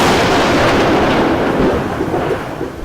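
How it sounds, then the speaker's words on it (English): Thunder from a lightning strike near a window, heard as a loud, close, continuous rumbling roar that fills the whole moment and eases off slightly toward the end. "A bolt of lightning strikes near a window."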